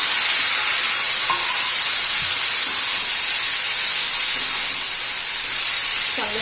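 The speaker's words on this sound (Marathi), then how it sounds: "तेलामध्ये आपण परतून घेऊया आता एखादा मिनिट झाकण ठेवूया" Chopped potato and capsicum sauté in hot oil, giving a steady, close, even sizzling hiss that runs throughout with faint stirring touches underneath and no talking.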